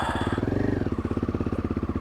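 A motorcycle idling roughly and sputtering unevenly, close by, struggling as it keeps stalling on a cold morning beside a frozen Dal Lake in Kashmir.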